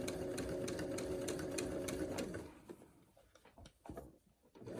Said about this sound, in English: I'm not going real fast because I want to make sure that I'm stitching down that whole seam inside.